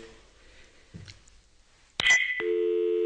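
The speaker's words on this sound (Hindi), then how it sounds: "मुझे लगता है कॉल ड्रॉप हो रही है।" Telephone busy tone from a dropped call on a call-in radio show: a steady, loud repeating tone begins abruptly after a click and a short burst, following faint line noise.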